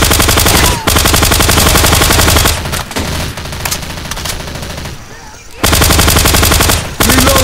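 Sustained automatic fire from a silenced HK G36A3 rifle in Left 4 Dead 2, loud rapid bursts that pause briefly twice and give way to a quieter stretch before firing resumes.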